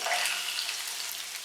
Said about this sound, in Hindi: अब इनको 2 से 3 मिनट फ्राई करेंगे।